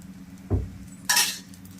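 Dosa batter is ladled and spread onto a hot pan: a dull thud of the ladle, then a short bright sizzle as the batter meets the hot surface, with quiet kitchen clinks and no talking.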